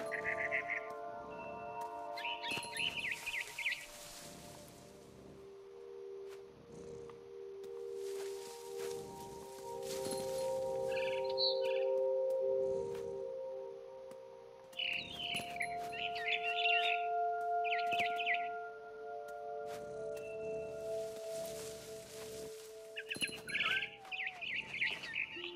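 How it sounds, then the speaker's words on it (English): A barn swallow in What Remains of Edith Finch gives short bursts of high chirps and twitters that come and go over sustained soft musical tones and quiet rustling, with no talking. "It was a barn swallow going back to her nest."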